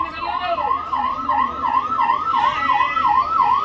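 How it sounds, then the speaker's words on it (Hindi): Ambulance siren wailing in a steady up-and-down sweep as the vehicle sits stuck in a roadside traffic jam, loud and continuous over low traffic rumble. "आप देख सकते हैं कि एम्बुलेंस जो है जाम में आकर फंसी है, जिस तरीके से जाम लगा हुआ है।"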